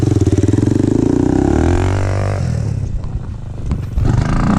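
A Honda TRX 400EX ATV engine runs close and loud while being ridden, a rapid pulsing drone that revs and dips midway before picking back up.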